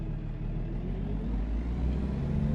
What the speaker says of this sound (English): Loving the sound of this truck.